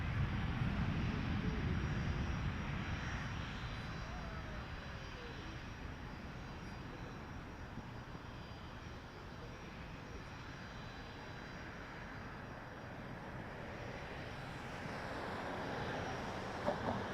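A fixed-wing airliner lands on runway 24 left at Toronto Pearson Airport, its engine rumble heard from a distance as a broad steady roar that eases slightly midway and swells again toward the end.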